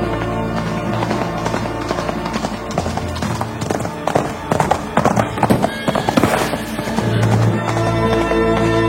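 Knights' horses charge in a joust, galloping hooves clattering rhythmically and loudly beneath a dense dramatic backdrop of music and crowd-like noise.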